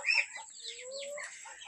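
A chicken bred from a pure Brahma hen and a pure Black Australorp clucks close by, a few short squawking calls, sharpest at the start, with no other sound.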